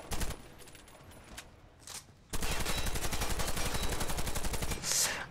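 Automatic gunfire in the shooter game Warface sounds in sharp bursts: a short volley, a pause, then a long rapid sustained string of shots, loud and dominant, ending with a brief echoing tail.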